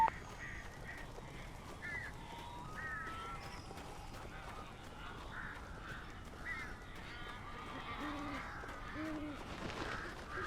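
Crows cawing in the video game Alan Wake, repeated harsh caws from several birds scattered through the passage over a low ambient rumble, mid-distance and without speech.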